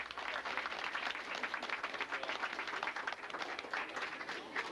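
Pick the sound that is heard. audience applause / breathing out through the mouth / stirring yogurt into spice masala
audience applause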